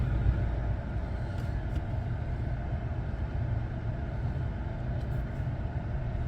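A 2015 Chevy Silverado LTZ Z71 4x4 pickup with 214,000 miles idling just after starting, a steady low rumbling engine drone, close and continuous, with no talking over it.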